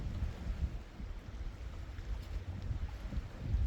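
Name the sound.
wind blowing at a fishing campsite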